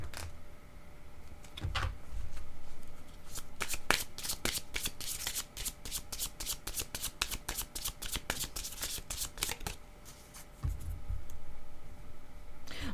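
A deck of yellow playing cards is shuffled and handled up close: a rapid, crisp riffle of dense fluttering clicks in the middle, framed by softer sliding and tapping of the cards before and after, with no talking.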